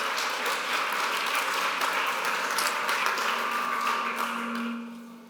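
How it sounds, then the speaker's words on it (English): Audience at an anniversary conference giving a panel moderator a round of applause, a dense, even patter of clapping that fades out at the end. "A warm welcome to you and a round of applause for him."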